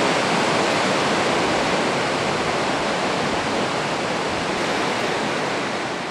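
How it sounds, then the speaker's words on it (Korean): A waterfall fed by Andes snowmelt pours down with a powerful, continuous roar, a dense broadband rush of water heard close and loud, steady throughout with no voices. "먼 산에서 흘러온 수고의 보상이라도 받듯 폭포는 장쾌하게 쏟아진다"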